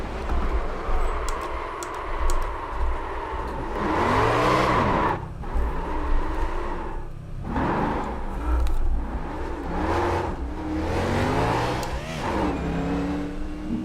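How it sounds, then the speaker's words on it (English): A race car in the iRacing simulator at Talladega, carburetor cup race, makes contact and crashes: engine roar swells and drops repeatedly with tire scrubbing and revving, loud and close, with no talking. "He's gonna go down and there's gonna be some contact, and now I'm crashing"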